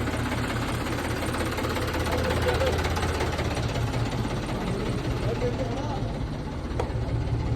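A tractor loaded with household goods during a wedding runs steadily and close, its engine a continuous low rumble with a knocking idle throughout, while other equipment hums in an outdoor setting.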